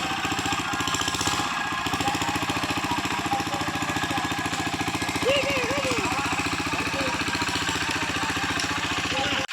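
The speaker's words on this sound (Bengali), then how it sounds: "এই মেশিন স্টার্ট দিচ্ছে পরে" A motor pump engine running to drain a village fish pond, a loud, steady, fast-pulsing mechanical drone held close throughout, with faint voices and a brief whistle-like tone partway in.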